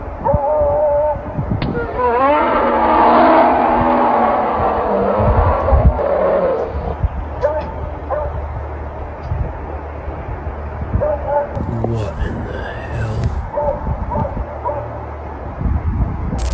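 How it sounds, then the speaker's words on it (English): A dog yips, whimpers and barks in a strange exchange with unidentified howling calls outdoors in a wooded hiking area, the noises rising and falling with scattered sharp sounds in between. "He recorded what seemed to capture an encounter between an unknown creature and a dog."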